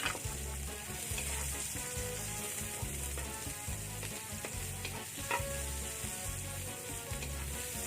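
Onions frying for a seashell dish cooked in coconut milk sizzle steadily in a hot pan, with a constant loud crackle and occasional stirring.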